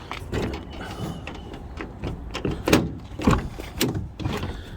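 Someone struggles with the doors of a Ford Transit Mk7 van, producing a run of close clunks, knocks and latch rattles in uneven bursts, with louder thumps toward the end.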